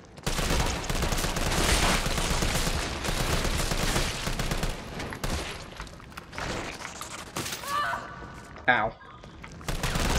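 Gunfire in the video game Resident Evil 3 comes in a dense, loud burst of rapid shots, then thins to scattered bangs and effects while a voice briefly cries out.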